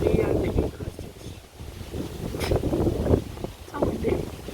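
Strong outdoor wind buffets the microphone in steady low rumbling gusts throughout, with a voice talking faintly beneath it.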